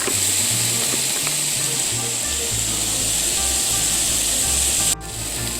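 Onions and carrots sizzle in a hot pan, making a steady, close frying hiss throughout, with soft background music underneath.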